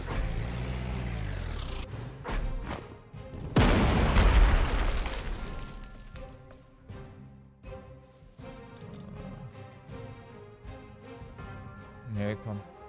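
Loud booming ship gunfire blasts in the video game Panzer Corps 2, one big explosion-like hit followed by rumbling and smaller impacts, with people talking over it.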